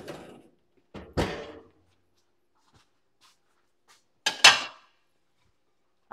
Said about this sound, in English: it's time to get this broccoli casserole out of the oven and onto the plate